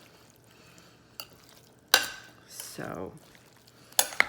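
Taco soup ingredients are stirred in a crockpot with sharp clanks of a utensil against the pot, scraping swirls in between and a spoken word amid the sparse, quiet clatter.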